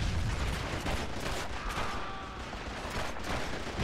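Heavy, sustained machine gun fire in a World War II shooter, Call of Duty 2 Big Red One, dense overlapping bursts and battle noise filling the whole stretch at close range.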